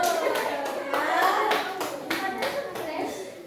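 A group claps the Indonesian 'tepuk salut' chant in a classroom teaching session, giving about eight or nine sharp unison claps in a rhythmic pattern, with a voice faintly underneath.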